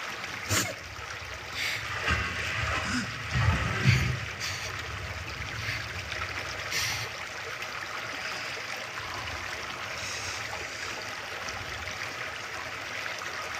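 Water in a stream flowing through an animated cartoon scene, a steady soft rushing wash with a few brief splashes and rises in the first seconds, heard alone without talk.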